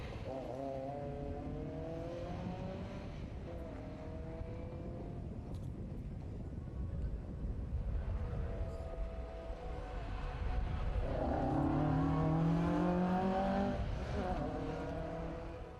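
A 2-litre Ford Mark II Escort sprint car at the Historic Leyburn Sprints in Australia revs up in rising sweeps, easing off briefly and then climbing louder and closer toward the end, with no talking.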